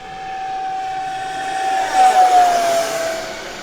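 Small 50mm RC T-33 jet making a fast speed pass, its ducted-fan whine steady and then swelling loudly as it rushes close overhead before fading off.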